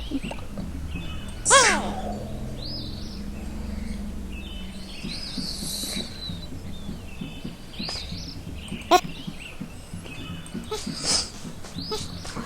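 Short bird chirps ring out in a noisy video game scene, a bright call near the start and a few more scattered later over a steady background hum.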